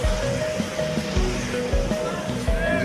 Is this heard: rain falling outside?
yes